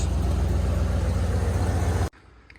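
A 1988 Ford Bronco truck idles loud and close with a steady, loping, rumbly engine note for about two seconds, then cuts off abruptly, leaving only faint background hiss.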